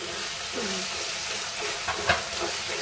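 Masala spices being fried down in a pan for rohu fish kalia, a steady, moderate sizzle with a faint stir or scrape late on.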